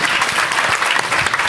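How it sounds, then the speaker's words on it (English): Conference audience applauding two speakers after a panel on founder wellbeing, a steady dense wash of clapping filling the whole stretch at close, even loudness. "Can you please give a big applause to our two speakers on this very important topic?"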